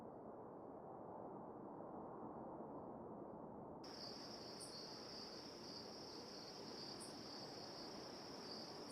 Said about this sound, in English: Kind of weird being in an airport and all you're hearing is crickets, though.